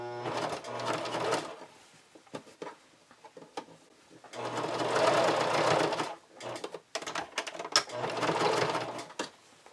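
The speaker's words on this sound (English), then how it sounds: "make sure that you do not have your sewing machine set to a zigzag stitch" A sewing machine stitches with a twin needle in bursts, running for a couple of seconds at a time with pauses and small clicks between runs.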